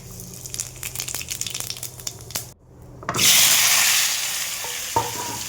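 Cumin seeds and bay leaf hit hot oil for aloo dum, first a light crackle, then a brief hush, then a loud, steady, close sizzle that slowly eases. No one speaks.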